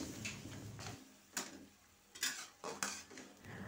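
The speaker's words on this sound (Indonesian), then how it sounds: "Aduk-aduk sampai bumbu meresap dan tercampur rata." Utensil stirring a spicy water spinach stir-fry with oncom and spice paste in a pan, giving intermittent scraping and clinking strokes, close and fairly quiet, with no talk.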